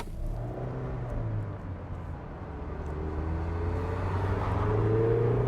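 Mazda MX-5 with a 2-liter Skyactiv engine driving on the road, heard from inside as a steady engine drone with road rumble that gradually rises in pitch as the car accelerates.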